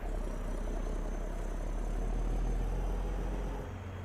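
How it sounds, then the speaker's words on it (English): A truck engine in American Truck Simulator, modded with the Mega Sounds Pack 3.1, runs as a steady, deep, continuous rumble that shifts tone slightly near the end, with no voices. "Is that really the engine sound? Yes, it is."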